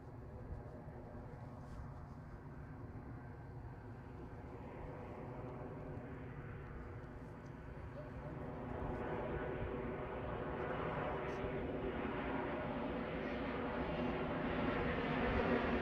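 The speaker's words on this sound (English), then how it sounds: "Ryanair inbound," A Ryanair Boeing 737 arriving at Edinburgh airport: a distant jet engine rumble and whine that grows steadily louder as the airliner approaches, with no talk.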